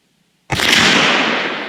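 Single sharp rifle shot from a Remington 700 chambered in 7mm Rem Mag firing a Barnes 139gr LRX round, a loud broadband crack after a moment of quiet, with a long reverberant tail fading over the following second.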